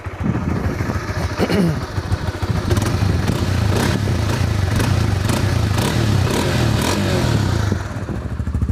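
A Honda CB150X motorcycle engine with stock exhaust runs steadily close by, a deep throbbing idle with a few light revs and some mechanical clatter, fairly loud throughout.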